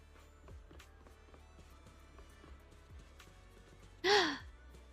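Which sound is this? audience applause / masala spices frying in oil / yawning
yawning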